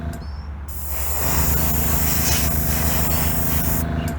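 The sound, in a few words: spray painting truck wheel wells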